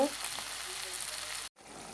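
Katla fish curry sautéing in a pan, a bright steady sizzle close by, briefly cut off by a short gap before the frying resumes.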